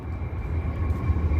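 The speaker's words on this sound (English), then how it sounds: "There's a metro train coming through here." Chicago metro train passing nearby on a city street, a continuous low rumble with rolling rhythmic undertones, fairly loud and steady, with no talking.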